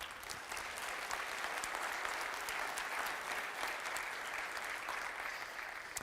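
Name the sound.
audience applause for the speaker's dad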